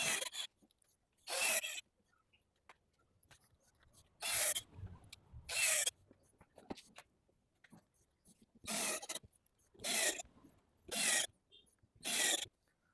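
Screws being driven by hand into the clamps of a 4-in-1 multi game table during assembly: about eight short, separate bursts of ratcheting and scraping, each followed by a quiet pause, close to the microphone.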